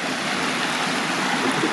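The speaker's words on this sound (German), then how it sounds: "So, hier ist ein Bach." A stream flows in front of a house, a steady, broad rushing and gurgling of water close by with no voices over it.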